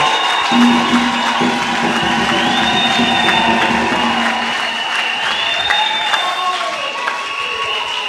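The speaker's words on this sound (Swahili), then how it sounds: "Acclamons le Seigneur Jésus." Congregation at a Sunday church service applauding and cheering for the Lord Jesus: sustained loud clapping and crowd cheers fill the space, with sustained musical tones ringing over the applause.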